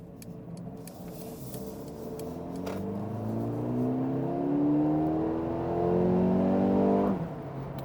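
A Mercedes-AMG A35 4Matic accelerates with a rising engine note climbing through the gears, loud and close from inside the cabin, then drops off sharply near the end as the revs fall.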